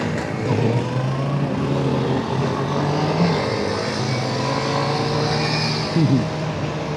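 A Kawasaki Ninja ZX6R SE four-cylinder sport motorcycle accelerates hard, its high-revving engine droning loud and steady with rising pitch and a sharp shift near the end, heard from close by without speech.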